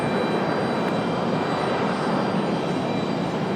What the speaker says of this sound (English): a couple of A220s sneaking their way out here for Breeze Airways